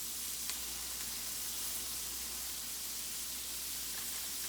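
Kale and diced vegetables saute in a pan for a sweet potato hash, giving a continuous close sizzle with a faint bubbly crackle that stays even throughout, with no talking.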